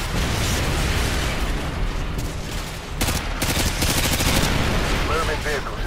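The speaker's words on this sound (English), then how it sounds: "Firing javelin. Danger close." Javelin missiles explode amid gunfire in Call of Duty Modern Warfare 2, dense loud rattling bursts and booming blasts that intensify midway, with rapid repeated shots crowding the mix and radio-style voices faintly in the background.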